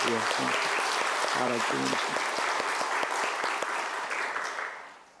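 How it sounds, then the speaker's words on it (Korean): An Easter Sunday church congregation gives warm, steady applause to its choir after a cantata, with a voice talking over the clapping at first before it tapers off. "오늘 부활절날 우리 뜨겁게 한번 칭찬과 격려의 박수로 우리 한번 이렇게 박수하겠습니다."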